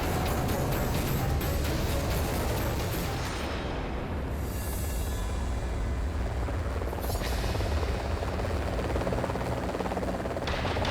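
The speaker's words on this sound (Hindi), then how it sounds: "हेलीकॉप्टर भी आ गया।" Helicopter arriving, a dense, loud rotor roar with a broad rushing wash that holds steady and close throughout.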